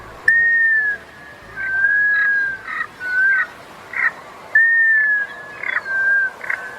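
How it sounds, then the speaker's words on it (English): A black scoter, a medium-sized sea duck, gives a series of clear, plaintive whistles: six or seven drawn-out notes separated by short pauses, some of them falling or wavering in pitch, heard alone against quiet water. "Today's featured feathered friend is one of the ducks that whistles."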